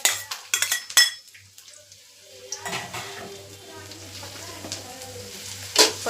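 Chopped garlic and ginger sauté in a pan, with utensil clatter and scraping up front, then a steady low sizzle running underneath with more stirring, and a voice speaking briefly.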